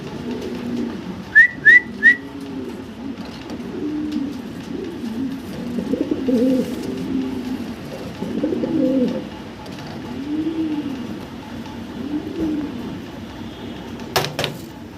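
Low, rolling pigeon coos repeat steadily for the whole stretch, with a few sharp whistle-like chirps near the start and a brief clatter at the end.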